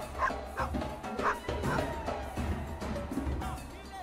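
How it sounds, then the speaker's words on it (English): A dog barks repeatedly in short, rapid yaps while chasing, a steady run of close, loud barks over clattering game noise. "I'm being chased by dog."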